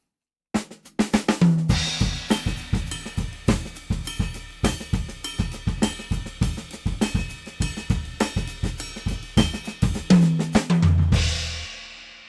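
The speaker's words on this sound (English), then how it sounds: "On some sections of the tune, I go over to the ride cymbal." A ride cymbal on a drum kit plays a basic steady jazz pattern, its evenly spaced pings ringing into one another for about twelve seconds, with lower drum accents underneath and no talking.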